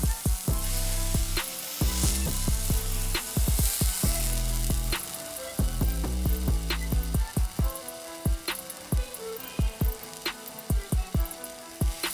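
Chopped tomatoes sauté for hotel-style tiffin sambar in a pan over a medium flame, a close, steady sizzle with frequent rhythmic scrapes and taps of a spoon stirring against the pan.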